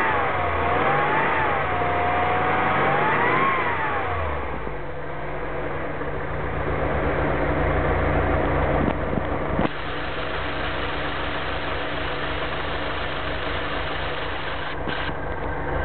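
A Volkswagen T3 engine with the DJ air flow meter setup runs steadily near by, revving up and down over the first few seconds before settling into a continuous idle with brief throttle blips.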